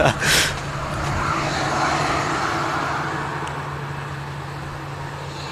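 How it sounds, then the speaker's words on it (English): An aircraft taxiing at Manchester Airport, its engine drone a broad, steady rumble with a low hum, rising slightly then easing, after a brief sharp noise at the start. "Couple of aircraft taxiing out to the start"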